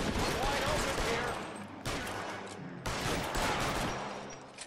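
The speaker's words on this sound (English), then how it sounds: "Darn, missed those shots." Rapid gunfire from the L.A. Noire video game rings out in three loud bursts of shots, each trailing into a reverberant decay.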